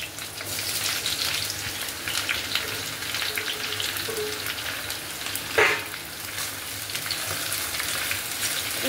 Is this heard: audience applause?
no